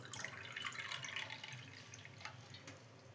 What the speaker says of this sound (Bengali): একটা বড় পাত্র নিয়ে নিয়েছি। এর মধ্যে প্রথমে জল দিয়ে দেবো।